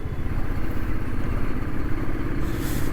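A motorcycle cruises on the foggy Eastern Peripheral highway, its engine a continuous loud rumble with wind roar and a slight rise in hiss near the end.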